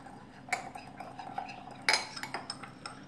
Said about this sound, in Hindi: थोड़ा सा इसको मैं मिक्स करूंगी